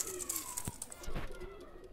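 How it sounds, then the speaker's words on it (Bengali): Two single-tailed pigeons coo softly at close range in short rolling calls, with a couple of light flutters or knocks in between. "দুইটা কবুতর ছেড়ে দেখাচ্ছি আমি।"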